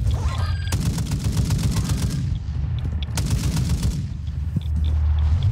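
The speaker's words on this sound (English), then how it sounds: "I can hear people shooting in the gas" Bursts of automatic gunfire in the Call of Duty Warzone 2.0 DMZ video game, two sustained rattling volleys of rapid shots at moderate distance, separated by a short lull.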